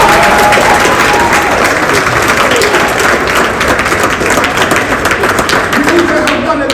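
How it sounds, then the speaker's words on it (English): Audience applause at an awards ceremony, steady loud clapping from a crowd with some cheering mixed in and a voice or music running underneath throughout. "Can you give them a round of applause"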